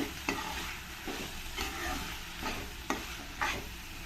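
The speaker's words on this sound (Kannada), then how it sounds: "ಒಂದು ನಿಮಿಷ ಎಣ್ಣೆಯಲ್ಲಿ ಸ್ವಲ್ಪ ಚೆನ್ನಾಗಿ ಇದನ್ನು ಫ್ರೈ ಮಾಡ್ಕೊಳ್ಳೋಣ" Rice fries in oil for methi pulao as a spoon stirs it, soft steady sizzling punctuated by several sharp scraping stir strokes against the pan, close and fairly quiet.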